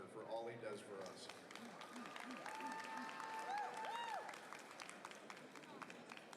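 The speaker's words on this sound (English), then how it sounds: "Please give a round of applause for Wes Felker for all he does for us." Scattered applause from a crowd at a collegiate powerlifting national championship, moderate and somewhat distant, with voices talking over it throughout.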